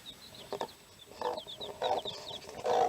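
A hen clucks softly to her newly hatched chicks, with short low clucks mixed with high, thin peeps from the chicks, scattered and gentle at close range.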